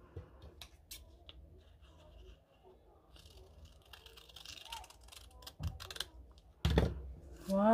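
Scissors cutting through fabric for a khimar, a series of close, crisp snips and creaks in an irregular rhythm, with rustling cloth, and a louder handling burst near the end.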